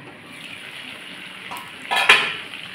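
Mutton sautéing in oil in a pan over a low gas flame gives a soft, steady sizzle, then a couple of louder scraping stirs near the end.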